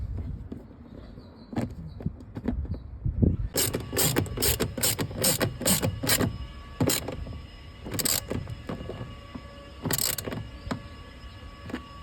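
Screw being driven into a Toyota Camry passenger side mirror, a series of close, rapid clicking and ratcheting bursts with brief pauses between them.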